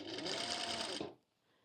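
A sewing machine runs in one fast continuous burst while stitching layered clothing, a bright whirring buzz that stops abruptly after about a second, leaving near silence.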